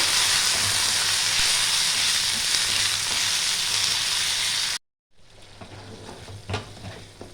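Spice paste of turmeric, chilli powder and green chillies fries hard in oil for khichuri, a loud steady close sizzle that cuts out abruptly, then resumes quieter with light stirring clinks.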